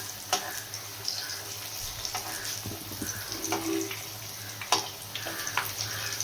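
Kalla vadai frying in hot oil, a steady hiss and sizzle broken by sharp clinks and scrapes as the fritters are turned over, close up, with no voices.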